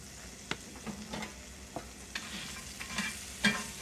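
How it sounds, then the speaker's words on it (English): Chicharrones scramble with peppers being stirred in a pan with bacon fat, giving a soft, steady sizzle with scattered scraping clicks from the utensil, close and fairly quiet, no talking. "And you just stir everything around. Just heat up the chicharrones just for a minute."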